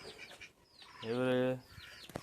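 Backyard chickens and chicks in a coop give one drawn-out, strongly tonal squawk mid-clip, with faint scattered cackles and rustling around it at close range.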